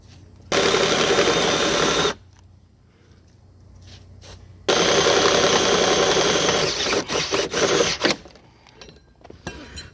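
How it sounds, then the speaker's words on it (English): A power drill bores a pilot hole in metal while building a trailer hitch for a tractor bucket, running in two loud, sustained bursts with a pause between, the second ending in sputtering grinding and brief stops. "I should not have drilled a pilot hole."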